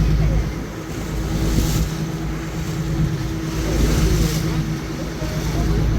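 A boat moves over open sea off Mumbai, its engine and rushing water forming a steady, loud wash of noise with wind, unbroken throughout.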